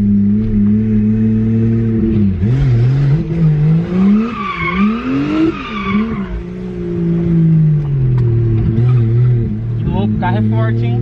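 Race car engine revving hard on the Speedway Music Park circuit, loud and close, pitch climbing and falling through gear changes with tyre squeal, while people talk over it throughout.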